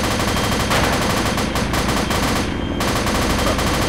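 Sustained automatic gunfire from a military firefight in Arma 2, with rapid overlapping bursts filling the whole stretch at loud, steady intensity and only a short lull partway through.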